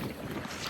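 Strong wind batters the microphone aboard a small boat on a creek, a dense, constant roaring rumble with a slight flutter, loud and close throughout.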